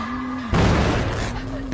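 A sudden loud video game explosion bursts in and rumbles as a broad noisy blast for about a second, over a steady electronic hum, then fades back.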